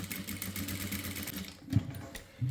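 Sewing machine stitching blouse piping at a half-inch seam, a steady mechanical whir with a brief pause and a few louder bumps near the end.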